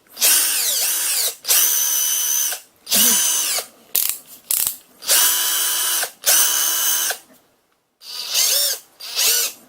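A Tool&Tool 18V lithium-ion cordless drill (TNT-REX18LI) whirs in several loud, close bursts of a few seconds each, rising and falling in pitch, with short silent gaps between triggers.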